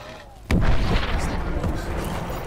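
A grenade goes off in Call of Duty: Advanced Warfare's Exo Zombies mode: a sudden, loud, close blast followed by a long rumbling roar that slowly fades.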